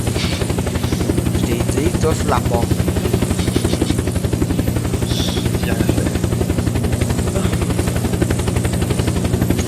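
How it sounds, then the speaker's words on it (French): A helicopter in the video game Unturned gives a loud, continuous rotor thump that stays up close from start to finish, while a person talks over it. "Touche pas mon hélicoptère."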